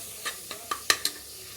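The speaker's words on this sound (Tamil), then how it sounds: "இதையும் போட்டு நல்லா கலந்துக்கலாம்." A spoon stirs chili powder and coriander powder sizzling in hot oil for chicken kurma, about five sharp scraping strokes at an uneven pace over a faint background sizzle.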